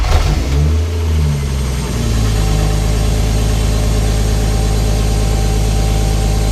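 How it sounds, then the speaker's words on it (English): A mk3 Toyota Supra engine cranks and catches from a cold start, then settles into a loud, steady high idle with a constant drone. "I'm going to start the car up now and we'll see how loud it is with the car running"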